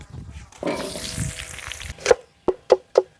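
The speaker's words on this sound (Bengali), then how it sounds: "আলুগুলো ভেজে নেব" Small halved potatoes frying in hot oil for a kuche fish dish, a burst of sizzling followed by several short sharp knocks of a utensil against the pan, close by with no talking.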